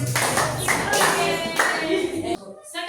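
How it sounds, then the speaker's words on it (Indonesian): A class of students clapping their hands together in a steady burst of applause that stops abruptly near the end. "Oke, tepuk tangan dulu."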